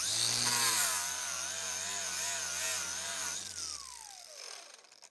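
A power tool, likely an angle grinder with an abrasive attachment, grinds mill scale off a steel table. It makes a loud, steady high whine that wavers in pitch and then spins down toward the end.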